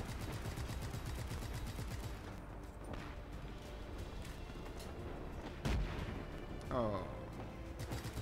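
Rapid, sustained gunfire hammers at a tank in the Just Cause 3 video game, a dense continuous rattle with occasional heavier booms, faint overall, and a man briefly exclaims over it.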